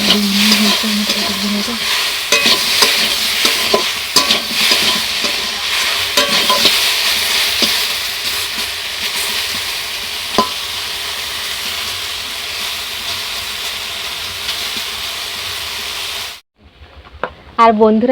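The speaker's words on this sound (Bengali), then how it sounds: "আর এখন আমি বটবটি ভাজা করছি" Yardlong beans fry in a pan with a loud, continuous sizzle and hiss, stirred now and then with sharp scrapes and taps, until the sound cuts off abruptly near the end.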